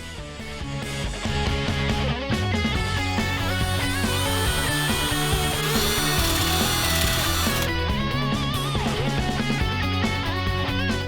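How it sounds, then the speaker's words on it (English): A power drill fitted with a whisk whines steadily at high speed whipping cream, its motor droning close and loud with the whisk churning, briefly shifting pitch partway through. "it just works perfectly on the drill as a mixer"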